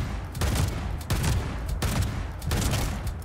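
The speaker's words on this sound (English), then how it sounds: "I just emptied out a pump-action shotgun in his chest and he just didn't go down." A pump-action shotgun in the video game Fallout 76 fires in a rapid series of loud, booming blasts, about six shots spaced roughly half a second apart, each followed by a short rumbling tail.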